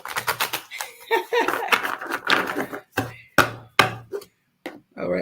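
A Stone Circle Oracle card deck is shuffled in rapid crisp riffling bursts, close and fairly loud, with short gaps between handfuls and some sharp slaps of cards.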